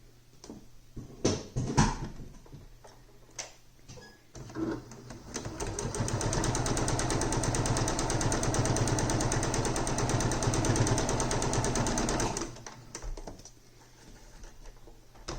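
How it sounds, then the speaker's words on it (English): A sewing machine runs steadily for about six seconds, stitching quilt pieces along a quarter-inch seam for a baby quilt, preceded and followed by brief clicks and handling of fabric. "I'm going to stitch along the right hand edge at a 1/4 inch seam"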